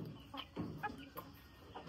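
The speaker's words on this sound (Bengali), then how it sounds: "তার আগে মুরগিগুলো আপনাদের দেখাই।" Free-range laying hens cluck faintly on a farm, giving a few short, scattered clucks over quiet background.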